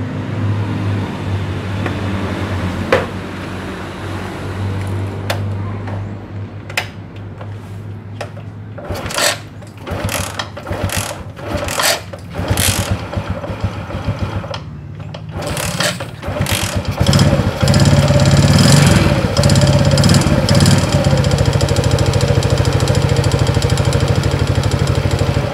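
An old Suzuki Shogun R 110 motorcycle with oil leaks is kicked over with several clicks and bursts, then catches and settles into a steady, close, buzzing idle.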